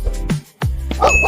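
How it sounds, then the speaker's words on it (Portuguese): A farm dog barks in short sharp yips, two or three quick barks close up, loud against a steady low background. "Cachorro."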